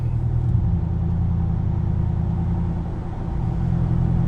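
Exhaust growl of a 6.2L Chevrolet truck idling at about 1,000 RPM, heard from inside the cab as a steady, deep, low rumble with a brief dip near the end, loud and with no talking.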